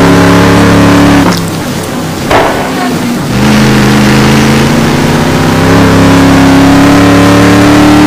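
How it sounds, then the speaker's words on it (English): Race car engine heard onboard in a GT1 racing video game at Silverstone, loud and sustained with a brief dip as it shifts or lifts, then climbing steadily again, no talk over it. "In car now with Brad Maris."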